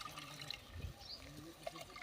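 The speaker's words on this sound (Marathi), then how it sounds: "थोडंसं आपण वाटणाचं पाणी टाकूया यामध्ये" Spice paste water splashes and trickles into a pan of frying masala, a soft, close pour lasting a couple of seconds with faint sizzling underneath.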